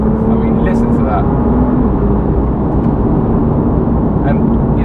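A BMW M2 drives along a badly surfaced road, its engine and exhaust giving a steady, loud, continuous drone close to the car, with a faint voice talking over it.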